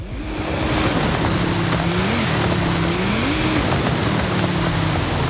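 A Ford car in a video game drives into deeper water, its engine a steady, continuous drone whose pitch glides up and down as it moves, with no talking.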